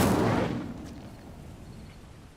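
A fiery Incendio spell cast in Hogwarts Legacy on PS5, a single loud whooshing burst at the start that fades quickly into a low rumbling tail.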